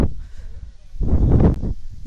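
Sea lions at La Jolla, San Diego, give a loud, hoarse, rough bark up close, set against steady outdoor background noise.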